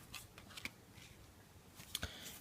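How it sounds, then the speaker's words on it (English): Tarot cards shuffled by hand, a few soft riffling flicks and light slaps spread across a quiet moment, close and gentle with no talking. "let's give the cards a shuffle"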